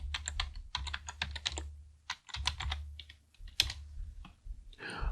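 A passphrase being typed on a computer keyboard during a server login, heard as a close, irregular run of crisp keystroke clicks with short pauses between bursts and no talking.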